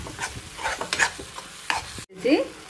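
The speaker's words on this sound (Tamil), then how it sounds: "இப்படி அடியில் ஒட்டாம இதை வதக்கிட்டுருங்க" A spoon scrapes and stirs a thick jackfruit paste in a pan with a soft sizzle underneath, in short repeated strokes up close.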